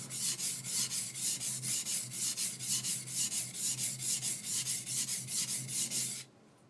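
Skiving knife pushed and pulled along a wet water stone in a steady rhythm of about twenty close, gritty rasping strokes, then stopping abruptly near the end.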